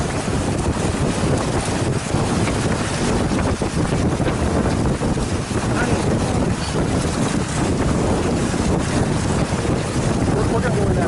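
Constant loud wind buffeting the microphone while sailing on a lake in gusty conditions, a dense roaring rush with no letup throughout.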